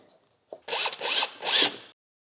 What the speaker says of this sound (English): there's a screw hole here where we'll fasten the airbox to the fender